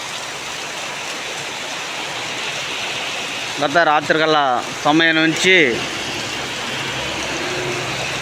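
Heavy rain pours in a dense, unbroken hiss, loud and constant from start to end, with someone speaking briefly over it midway.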